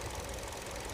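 A 2013 Hyundai Sonata The Brilliant LPI, an LPG car with 170,000 km on it, idles steadily up close with its engine bay open, giving a smooth, even hum with no breaks.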